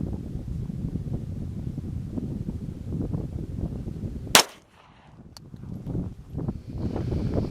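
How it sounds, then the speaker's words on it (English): A single sharp gunshot cracks out as Liberty Defense ammunition is fired at a target seven yards away, loud and sudden amid steady outdoor wind noise, followed by quieter rustling. "I'm going to shoot at this target from 7 yards"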